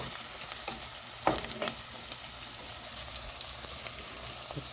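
Vegetables sizzling in a pan with dried chili, green chili, turmeric and ginger while being stirred, a steady close frying hiss broken by occasional scraping stir clicks.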